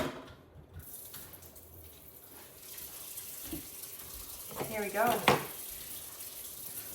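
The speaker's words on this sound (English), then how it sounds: "Well, that's filling up with water." Tap water running into a container, a soft steady stream with a brief louder splash near the end, while a person speaks briefly.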